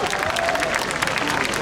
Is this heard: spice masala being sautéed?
no